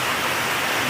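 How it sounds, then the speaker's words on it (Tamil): Heavy rain in Kodaikanal pours down as a loud, even hiss with no gaps, close and alone, with nothing else breaking through. "அது பயங்கரமாக மழை பெய்யுது பாருங்க"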